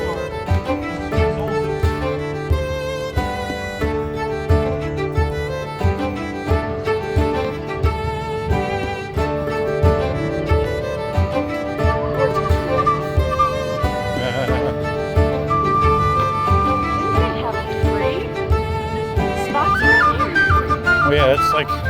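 A live band plays a rock song on bagpipes and drums at an outdoor Renaissance faire stage, a Celtic Fling event in Pennsylvania, with a continuous dense, droning full-band sound and people chattering nearby.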